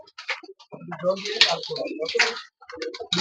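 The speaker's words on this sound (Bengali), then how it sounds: "তো এই নরের লফট থেকে কিছু পায়রা দেখিয়ে দেবো আপনাদেরকে।" Pigeons in a loft cooing and fluttering close by, the soft rolling coos and bird calls mixed with bursts of nearby activity over about three seconds.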